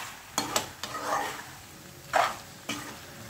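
Pasta is stirred and tossed in a pan over low sizzling, with a few scattered clinks and scrapes of a utensil against metal, quiet and close.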